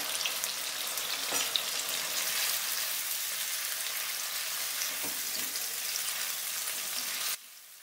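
Cauliflower florets fry in a pan with a dense, continuous sizzle and faint stirring, close and uninterrupted, then cut off abruptly near the end.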